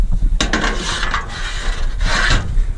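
Hoses being disconnected from a sewer cleaning trailer: close, loud scraping and rubbing with clunky mechanical rattles from the couplings over a low rumble.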